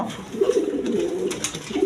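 A pair of red satin pigeons coos in low, throaty bursts close by, a steady soft rolling call with no talking over it.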